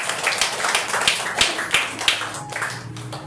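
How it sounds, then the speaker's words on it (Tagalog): Church congregation at worship claps for the Lord, a loose patter of hand claps at moderate distance, irregular and fairly quiet, fading toward the end without voices. "Wala pang palakpak sa Panginoon."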